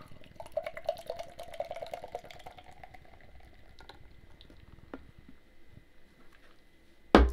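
Bryggmästarens Premium Gold lager from Åbro Bryggeri is poured from a bottle into a glass, a continuous fizzing, gurgling liquid stream that settles into soft crackling foam, ending with a brief clink.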